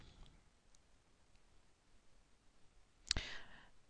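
A single computer mouse click, crisp and close, near the end of an otherwise quiet stretch.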